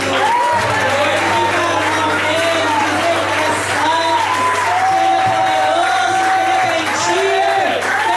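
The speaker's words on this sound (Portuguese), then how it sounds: "Você pode aplaudir ao Senhor." A church congregation claps for the Lord during a worship service, a steady wash of applause and some cheering under a droning musical accompaniment and a voice, continuing throughout.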